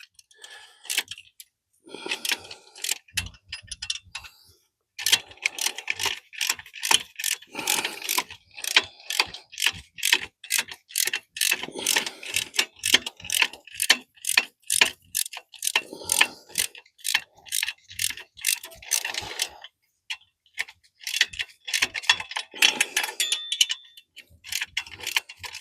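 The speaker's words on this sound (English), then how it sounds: "All right, the bolts are breaking free." Ratchet wrench clicking in fast rhythmic bursts, breaking free and loosening the swing arm bolts on a 1993 Warrior during a full teardown, close and clear with short pauses between runs.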